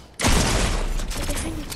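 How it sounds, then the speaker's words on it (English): Rapid gunfire erupts in a Fortnite match after a brief quiet moment, a loud dense burst of shots continuing steadily with mechanical clatter throughout. "we're getting shot by other people"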